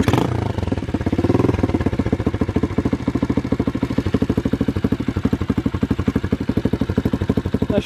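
A Loncin 110/125 pit bike engine catches after a short start and settles into a steady, close, loud idle with rapid even pulsing chugs throughout.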